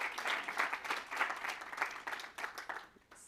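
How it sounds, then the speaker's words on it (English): Audience applause for an award winner at a climate solutions challenge finals, a steady wash of many hands clapping at moderate level that thins out near the end. "We can clap for him anyway, and he will see it."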